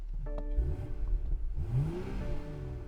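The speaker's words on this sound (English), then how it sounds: "Sounds pretty good. I love that inline six." A 2022 BMW X3 M40i's inline-six engine revs up briefly in neutral and settles, the pitch rising and falling, heard up close with no one speaking.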